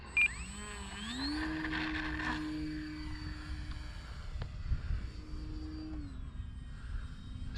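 An FMS Ranger 1220mm RC trainer plane on a 3-cell battery comes in to land, its electric motor whining up in pitch, holding steady, then winding down, near and moderately loud over faint wind.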